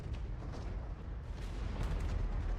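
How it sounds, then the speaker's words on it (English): A video game explosion in NIKKE: a dense, rumbling low boom with a shaking roar that fills the whole short stretch at moderate loudness, with no talking. "An explosion rings out"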